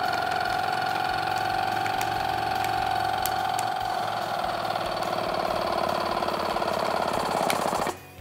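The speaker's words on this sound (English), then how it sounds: "now I'm gonna be pressing on this button for about 20 seconds or until you hear the motor slowing down" A Skinz Design Studio machine's motor hums steadily and loudly for several seconds with a faint rattle, its pitch sagging slightly as it slows, then cuts off sharply near the end.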